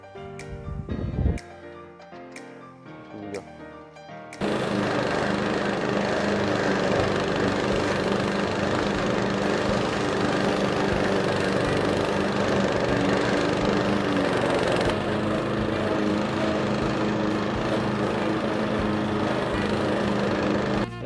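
Tekna TR 60 wheeled brush cutter with its small petrol engine starting after a few short mechanical bursts, then running steadily and loudly at close range with a constant droning hum and no talk.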